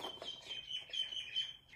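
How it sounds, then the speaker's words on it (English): A pet bird chirps indoors, with a faint tonal whistle and scattered short tweets repeating through the moment, fairly close and moderately quiet. "whenever I try to talk, the bird is gonna shout at me back"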